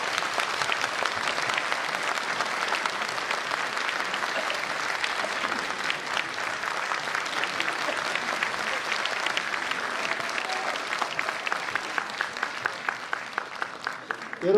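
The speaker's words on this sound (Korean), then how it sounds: "환영의 뜻을 모아 큰 박수를 부탁드리겠습니다" Audience applause welcoming a speaker to a Korean lecture event, a steady sustained wash of many hands clapping for about fourteen seconds, thinning toward the end into scattered individual claps.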